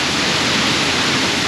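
A waterfall on a Yorkshire Dales trail roars up close, a dense, steady broadband rush of crashing water filling the whole moment with no voices.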